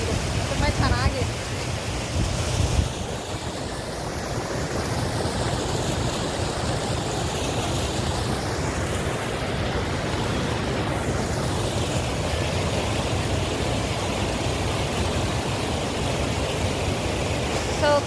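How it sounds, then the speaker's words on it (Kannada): Water runs through agricultural fields as a steady, even rush that continues unbroken from start to finish. "ಸೊ ಇಲ್ಲಿ ಈ ಥರ ಹರಿತಾ ಇದೆ ನೀರು, ತುಂಬ ಚೆನ್ನಾಗಿದೆ."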